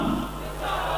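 A rally crowd roars back a religious slogan in unison at a preacher's call, a dense sustained mass of shouting voices from start to finish.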